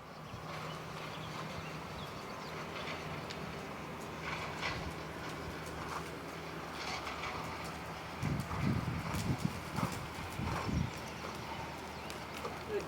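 A horse's hooves clip-clop nearby at a steady walking pace, faint and close to a constant low background hum. A few heavier footfalls land near the end. Nobody speaks.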